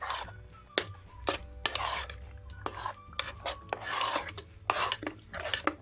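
A thick tarhana dough mixture being stirred by hand, with close, fairly loud scraping and squelching strokes and occasional utensil knocks in an uneven, repeated rhythm.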